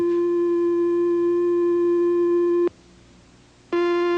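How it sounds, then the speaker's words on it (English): A sustained electronic triangle wave tone from an oscillator hums steadily, cuts out for about a second, then resumes with a slightly brighter, buzzier edge. "Another oscillator produces a triangular wave."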